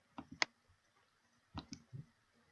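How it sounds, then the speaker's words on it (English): Dice tumbling and clattering during a lucky-number draw, two quick bursts of sharp clicks about a second apart, fairly close and clear with no talking. "so let's roll our dice"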